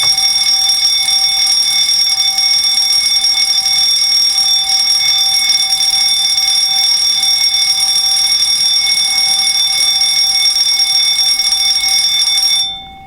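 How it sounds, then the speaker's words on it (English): A fire alarm being tested in a lecture hall blares as a loud, continuous electronic tone with no breaks for more than twelve seconds, then cuts off abruptly. "Since there's fire alarm testing going on all the way through, I think I'll take the strategy of just stopping talking when there is an alarm"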